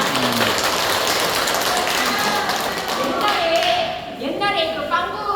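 An audience at a silk amino acid factory tour claps. Dense, noisy applause fills the first few seconds and then tapers off as other tones and sounds take over.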